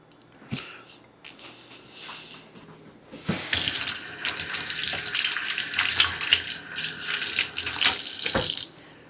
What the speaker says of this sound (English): Always rinse your hands whenever you do something that involves your hands.